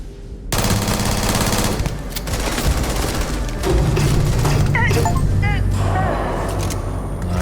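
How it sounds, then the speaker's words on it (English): Kadama submachine gun firing in Starfield, loud sustained bursts of rapid automatic fire with brief pauses, mixed with game effects and some talking over it. "Okay, this is actually a submachine gun."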